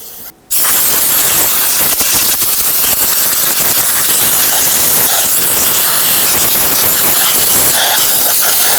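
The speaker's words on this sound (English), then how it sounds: "then I'll use some compressed air and blow the brake parts cleaner off" Compressed air blown over the engine of a 1997-2006 Jeep Wrangler 2.4L to clear off brake parts cleaner, a sudden loud, harsh, steady rushing blast that starts after a brief pause and keeps going.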